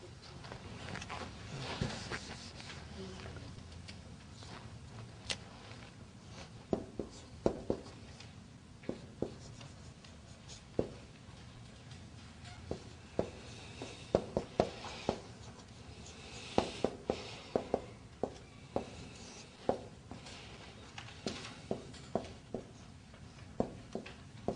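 Pen or pencil writing a sentence on paper: close, intermittent scratching strokes with sharp taps and pauses between words over a quiet room, no talk.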